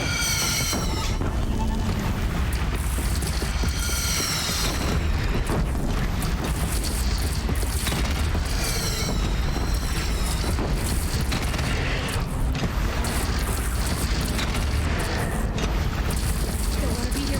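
Heavy cannon fire and booming explosions in the video game Horizon Zero Dawn pound continuously during a battle, dense and loud throughout, with shouted voices mixed in.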